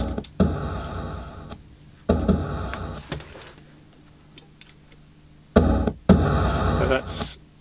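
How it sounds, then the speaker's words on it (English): A car thumps over the expansion joints of Brisbane's Story Bridge in three loud bursts of rhythmic, clattering thuds, separated by quieter stretches of low road hum. "the sound of the car hitting the expansion joints on the bridge"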